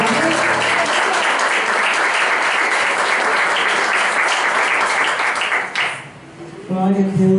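Loud, sustained applause from a large crowd fills most of the moment, then fades and gives way to a voice speaking.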